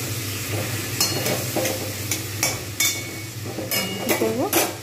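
Chicken with potatoes and eggs frying in a wok, a steady sizzle broken by repeated scraping and clinking stirs of a utensil against the metal, close and fairly loud.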